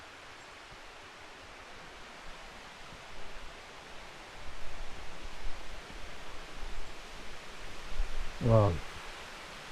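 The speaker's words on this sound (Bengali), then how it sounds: "আমরা এখন ঝর্ণার শব্দ শুনতে পাচ্ছি, হয়তো কাছেই সেই কাঙ্ক্ষিত ঝর্ণা আমরা দেখতে পাবো" Waterfall at Minnamurra Falls, heard from inside dense forest as a faint, steady broadband rush that swells slightly partway through, with a brief exclamation from a voice near the end.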